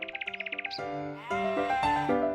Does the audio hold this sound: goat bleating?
yes